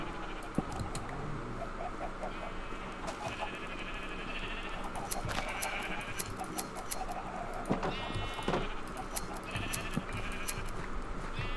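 Sheep in a single-player video game world bleat repeatedly over a steady low background hum, with faint clicking throughout.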